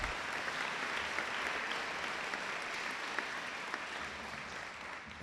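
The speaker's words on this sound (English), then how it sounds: "Can we give them a big round of applause," A large audience applauds at a 2018 school awards evening after a performance by rock band, soloists and choir, a thick continuous roar of clapping that tapers slightly toward the end.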